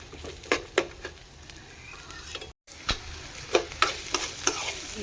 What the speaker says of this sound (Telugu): సన్నం సన్నంగా కోసుకునేవి మనం ఫ్రై చేసుకుందాం ఈ విధంగా ఫ్రై చేసుకుందాం